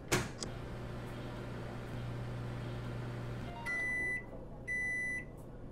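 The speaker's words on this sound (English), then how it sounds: "Or do I have to microwave the lot?" A microwave oven in the VR game Job Simulator hums steadily for several seconds, then gives two clear, sustained electronic beeps near the end.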